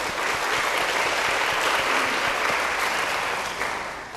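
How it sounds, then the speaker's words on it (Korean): A church congregation at a Sunday young adults' service applauds steadily to welcome a missionary, a dense, even clapping that fades slightly at the end. "박수로 환영하겠습니다"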